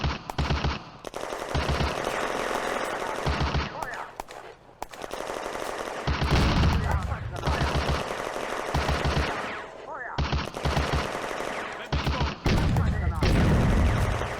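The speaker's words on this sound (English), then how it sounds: "The Panzer 38 fires and misses. The BT-7 fires back and hits." Tank cannon and machine-gun fire from a Panzer 38 and a BT-7 in the Firefight video game, set on the Eastern Front, loud rapid bursts of gunfire broken by short pauses, with sharp close reports and a few deeper booms.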